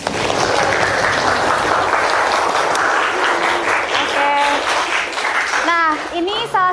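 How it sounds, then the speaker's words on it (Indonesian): Students in a vocational high school classroom clap steadily and loudly for several seconds, and children's voices break through the clapping toward the end. "Tepuk tangan."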